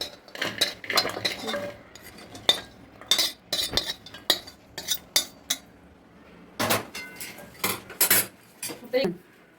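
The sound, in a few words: roasted dry dates scooped into pot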